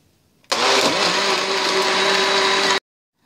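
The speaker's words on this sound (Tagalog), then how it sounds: "Then, i-blender po natin ulit." A blender blending a mango shake roars loudly and steadily for about two seconds, then cuts off abruptly into silence.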